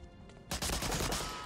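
Machine gun fire in Medal of Honor: Allied Assault: after a brief quiet moment, a loud, dense burst of rapid gunfire erupts and continues to the end, close and harsh, with no talking.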